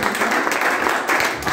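Church congregation applauding a man, a dense burst of clapping filling the room, steady and loud throughout the short moment.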